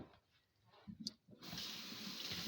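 Canned corn rinsed a little at a time in a strainer under cold running tap water: after some soft handling clatter, a steady, close hiss of the water stream takes over and runs on alone.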